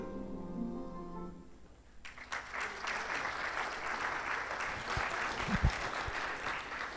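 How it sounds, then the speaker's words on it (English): Audience applause at a launch event for Abdullahi College: after about two seconds of fading tonal music, dense, sustained clapping from a large crowd fills the rest, steady and fairly loud with no speech over it. "I think that applause is a little low."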